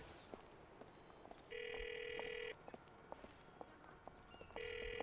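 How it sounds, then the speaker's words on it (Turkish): A phone rings in the video game GTA IV, giving two faint, steady electronic ring bursts separated by a pause over quiet game background noise. "Telefon çalma sesi geliyor ama"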